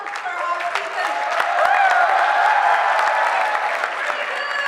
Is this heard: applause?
yes